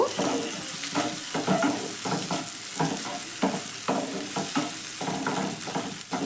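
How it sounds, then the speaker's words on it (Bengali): Chopped tomato sautéed with fried ginger and garlic in a pan, a continuous sizzle broken by rhythmic stirring scrapes, with faint watery bubbling underneath, heard close with no talking. "এবার টমেটোটাকে ভালো করে কষিয়ে নেব যতক্ষণ না পর্যন্ত টমেটোটা ভালো করে গলে যাচ্ছে"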